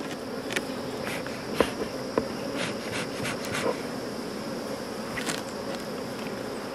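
Honey bees hum steadily in a continuous buzzing swarm around an opened, strong beehive being fitted with a beetle trap board, with a few sharp clicks and knocks of hive tools and frames over the drone.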